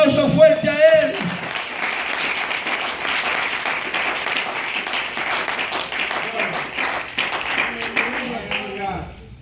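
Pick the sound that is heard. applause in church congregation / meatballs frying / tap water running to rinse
applause in church congregation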